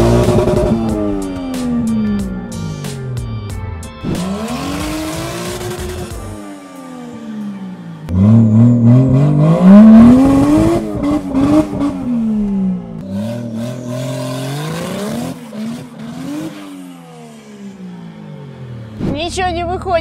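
A turbocharged Chaser car engine running with no exhaust fitted, raw and loud, rising and falling in repeated revs with rattling clatter between, close to the listener while people talk over it.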